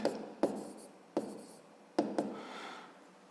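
A hand writing out a math solution on paper, several distinct taps and pen strokes in an uneven rhythm, close and fairly quiet with no talking.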